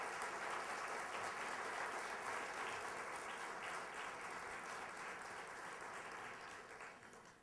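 An audience applauds a Parti Québécois deputy at a chamber of commerce event, a dense, steady clapping that fades slightly toward the end.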